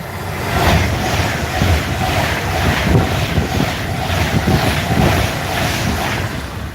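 A Pendolino passenger train rushes past a trackside spot, a loud, sustained roar with regular pulsing beats and wind buffeting the microphone.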